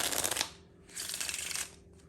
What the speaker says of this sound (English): give them another shuffle